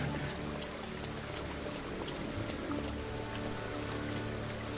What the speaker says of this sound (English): raining and cold